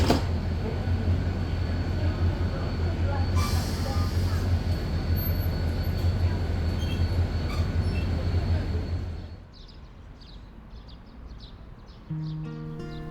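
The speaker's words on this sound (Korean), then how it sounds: "부산 구포역에서 무궁화호를 타고 문경 점촌역까지 이동합니다." A Mugunghwa passenger train travelling from Gupo Station in Busan gives a steady loud cabin rumble with a low drone and rail noise, then fades to a quieter interior hum. A brief tone sounds near the end.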